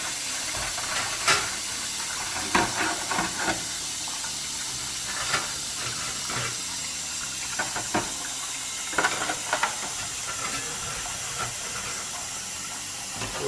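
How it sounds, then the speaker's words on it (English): Warm water runs steadily into a tub for cleaning the parts of a Seth Thomas kitchen clock, a continuous hissing pour with a few brief knocks and clinks over it. "Fill it with some warm water and put our other parts in it."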